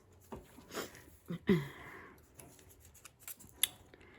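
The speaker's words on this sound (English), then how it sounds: "I think I just need to cut words out of it." Scissors snip paper to cut words out for a gluebook, a few quiet close snips and rustles in a quiet room.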